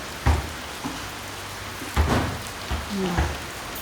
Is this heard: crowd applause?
no